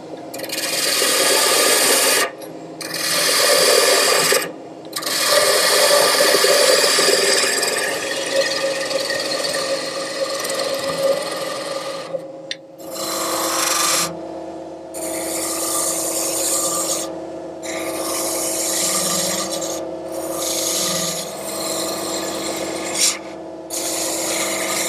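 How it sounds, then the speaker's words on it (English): A lathe gouge cutting a taper on a wooden nightstand leg in a woodworking shop makes a loud, continuous rasping shear over the spinning lathe's hum, broken by a few brief pauses as the tool lifts off. "I'm going to switch from the parting tool back to the gouge to make that taper."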